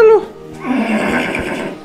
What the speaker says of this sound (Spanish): Mira, ese caballito enano.